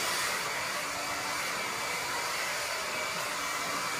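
A John Frieda Full Volume hair dryer blows steadily and loudly at close range, a continuous airy whir with no pauses and no talking.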